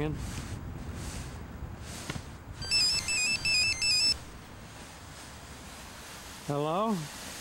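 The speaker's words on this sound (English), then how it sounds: "Phone's ringing." A telephone ringtone sounds outdoors at a snowboarding park, in a loud electronic warbling burst and then a shorter second burst, amid faint background rustle and voices.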